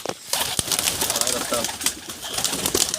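Domestic pigeons, including young birds, coo softly close by in a breeding loft amid steady rustling and fluttering, with a few scattered clicks and taps.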